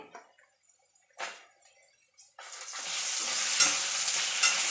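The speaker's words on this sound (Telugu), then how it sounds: "ఇప్పుడు మనం ఒకటే దీంట్లో వేసుకుందాం ఎండుమిరపకాయలు వేస్తానండి" Dried red chillies dropped into a hot pan alongside cooked bitter gourd for chutney, a few soft stirring clinks, then a steady loud sizzle of frying that keeps going to the end.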